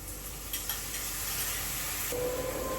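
Ground almond, onion, garlic and ginger paste hitting hot oil in a pan, giving a loud, steady hiss and sizzle close by, with stirring and no talk.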